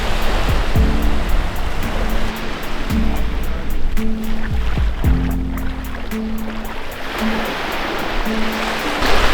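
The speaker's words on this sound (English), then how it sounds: "This is a white sandy beach." Waves wash onto a white sandy beach in Bintan, Indonesia, giving a constant rushing surf with periodic swells, while a motor hum rises and falls beneath it.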